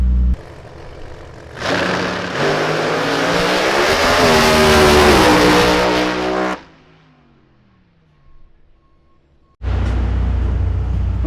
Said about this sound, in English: We got the Smoky Charlotte Pro Modified racing car.